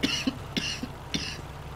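A gamer with a cold coughs three times in close succession, close to the microphone, with short throat-clearing sounds between the coughs.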